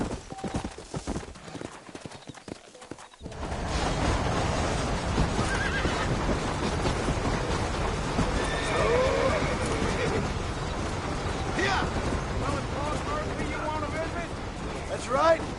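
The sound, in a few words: horse galloping and whinnying, from video game Red Dead Redemption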